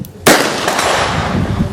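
A single loud rifle shot at an outdoor shooting range, a sharp close crack followed by a long rolling echo that fades slowly.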